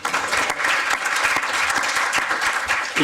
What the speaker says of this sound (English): Applause for Christine.